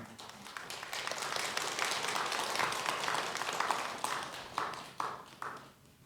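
A congregation claps during a Sunday Buddhist dharma talk at Jogyesa temple. The dense clapping swells, holds, then thins to a few scattered, distinct claps before fading out.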